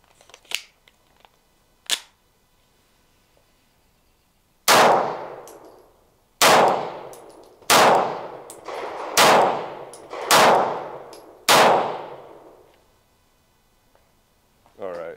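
Springfield Prodigy pistol fired at a range, heard as six loud, close shots with ringing tails at uneven intervals of roughly one to two seconds, after a few fainter clicks.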